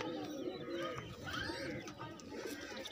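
Young pigeons coo softly amid a busy, faint background of chirps and murmuring voices.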